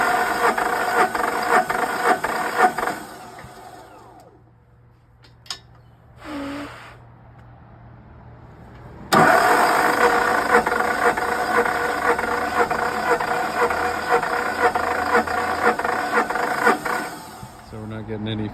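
Dynapac LG500 compactor engine cranking without firing, a loud, rhythmic mechanical churning in two long bursts separated by a quiet pause with short sounds, ending abruptly.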